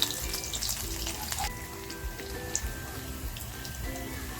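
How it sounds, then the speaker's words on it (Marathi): Steady crackling sizzle of garlic frying in hot oil, close and continuous with small pops, alone with no voices. "लसूण छान तडकली ना"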